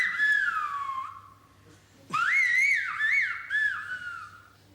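Shrill whistled phrases of a whistled form of Spanish, with sliding, rising and falling pitches, like speech carried in whistles: one long phrase, a pause, then a quicker run of whistles.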